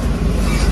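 Inside a moving train carriage, a loud, steady rumble of the running train fills the space without a break.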